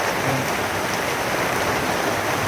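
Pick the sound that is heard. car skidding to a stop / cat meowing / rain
rain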